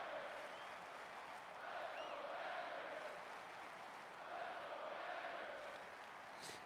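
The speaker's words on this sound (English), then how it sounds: "Crowd really loving it." Stadium crowd at a college football game, Miami at Wisconsin, roaring and cheering in a steady broad wash that swells twice, with no distinct voices standing out.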